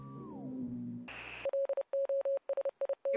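A radio beeps in the video game Oxenfree: a falling tuning tone, a short static burst, then a rapid series of about a dozen clipped electronic beeps in uneven rhythm, clear and fairly close.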